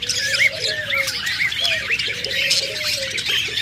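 Budgerigars for sale, including a big red-eyed albino pair, keep up a steady chatter of squawks and warbling chirps at close range, with several birds calling over one another without pause.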